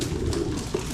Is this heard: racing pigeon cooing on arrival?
yes